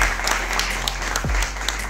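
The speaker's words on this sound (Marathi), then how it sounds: "जरा जोरात टाळ्या" Audience applause fills a state-level honour award ceremony, a steady wash of many hands clapping that carries on throughout, with a low thump partway through.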